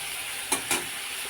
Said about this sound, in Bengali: আমার চিংড়ি মাছ কড়াই দিয়ে দিয়েছি, প্রায় ভাজা হয়েই এসছে